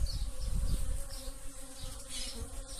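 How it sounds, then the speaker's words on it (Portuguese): Bees buzz around blooming pitaya (dragon fruit) flowers at home, a close, continuous drone with several insects passing near, with no talk. "Barulho das abelhas."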